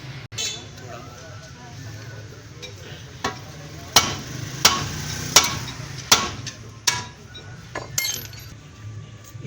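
Metal hammer blows on the steering joint of a Suzuki Alto VXR, about six sharp, evenly spaced strikes ringing out close by over a low background, with someone talking.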